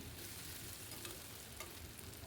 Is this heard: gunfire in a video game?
no